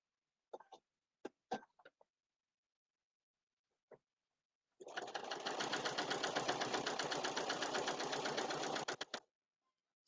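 A sewing machine stitches a fabric potholder in a steady, rapid mechanical chatter lasting about four seconds, close and clear, after a few faint scattered clicks and taps.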